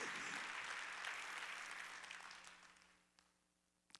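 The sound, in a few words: congregation applauding during a church sermon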